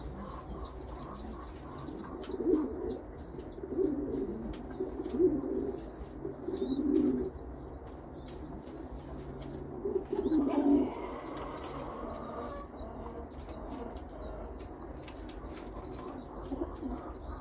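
A pigeon parent feeding its chick, with repeated soft, low cooing and murmuring from the adult, brief wing flutters and faint high chirps from other birds in the background, close and fairly quiet.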